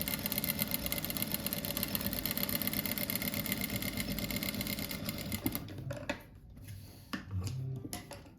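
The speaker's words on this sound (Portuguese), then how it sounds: "Aí primeiro eu vou costurar esses daqui assim, costurar no meio aqui, para depois continuar o bloco." Sewing machine stitching patchwork pieces for a rug block, a loud continuous whirring run that stops near the end, followed by quieter handling sounds.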